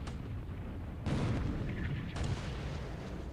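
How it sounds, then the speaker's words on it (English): An 8-inch shell hits a Japanese heavy cruiser in the War in the Pacific naval game, heard as two heavy booming impacts about a second apart over a low rumbling background. "Another 8-inch shell hit against a Japanese heavy cruiser."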